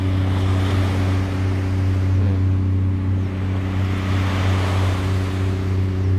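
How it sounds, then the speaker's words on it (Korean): Ocean waves wash continuously over a steady low engine hum, loud and close, with no voices. "파도 소리 너무 좋다"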